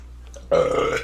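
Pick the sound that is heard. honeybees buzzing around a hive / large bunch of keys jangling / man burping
man burping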